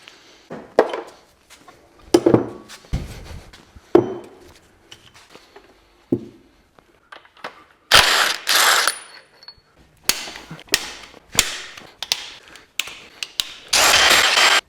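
A ratchet wrench undoing bolts on a broken BMW E92 320i engine, irregular close clicks and metallic clanks throughout, turning into loud dense ratcheting bursts in the second half.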